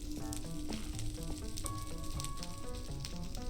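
Mobs burning in a Minecraft modpack game give a continuous sizzling crackle overlaid with bright tonal game sound effects, steady and fairly quiet with no talk.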